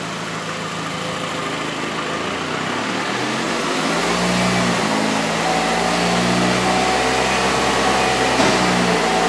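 A Chevrolet Malibu with brake and front wheel bearing trouble, its engine rising from idle into a steady, droning rev as the gas is pressed, heard close and continuous without talk.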